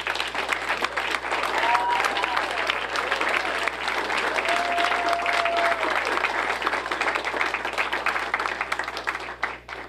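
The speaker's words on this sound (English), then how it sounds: "we owe you a round of applause" A school board meeting audience applauds the Robstown ISD band supporters with a full, even round of clapping that runs unbroken and close, while faint voices and brief tonal whoops rise over it.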